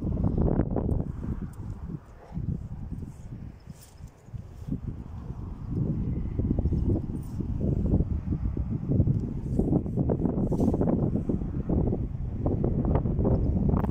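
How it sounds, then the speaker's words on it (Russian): Strong wind on the Egersheld peninsula by Golden Horn Bay roars steadily into the microphone, rising and falling in gusts with a low buffeting rumble throughout. "Ветер крепчает, уже порывы крепчают и сила увеличивается ветра."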